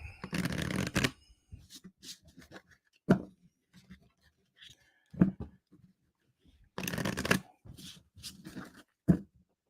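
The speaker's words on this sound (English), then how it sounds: "We will quickly shuffle this together." A deck of game cards is shuffled at close range in several quick riffling bursts, with softer taps and handling noises between them and no talking.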